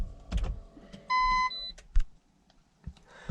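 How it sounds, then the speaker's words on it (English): A Toyota Yaris Hybrid's front parking sensor gives a steady electronic beep of about half a second, clear and fairly loud inside the cabin, with soft clicks and handling noises around it. "the big beep that you have heard just now is the front beeping system"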